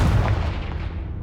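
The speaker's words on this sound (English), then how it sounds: "Confringo!" Fiery blast of the Confringo spell in Hogwarts Legacy, a loud, dense booming burst with heavy low rumble that crackles and decays over about a second.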